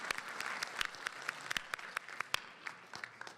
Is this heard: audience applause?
yes